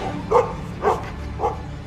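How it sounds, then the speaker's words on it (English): Several dogs bark in three spaced bursts in a dramatized Civil War escape scene, moderately loud over a low steady background hum. "Somebody calm these damn dogs down."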